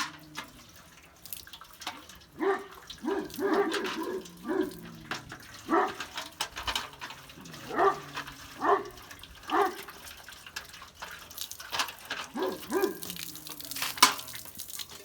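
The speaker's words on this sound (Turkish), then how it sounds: "Önce suyla suyla durulayacağız." Water splashes and trickles in short bursts as dog food and water bowls are rinsed close by, with clinks and sloshing repeating irregularly.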